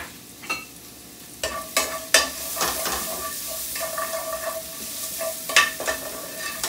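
Finely chopped shallot sautés in clarified butter, a close, steady sizzle punctuated by several sharp spatula scrapes and stirring knocks against the pan.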